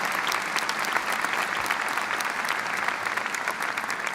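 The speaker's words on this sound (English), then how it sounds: "please give a round of applause to Patrice Berger for being with us today" A large crowd at a university undergraduate commencement claps steadily for an honored guest, a dense, even wash of applause that holds at full strength for several seconds, with faint voices mixed in.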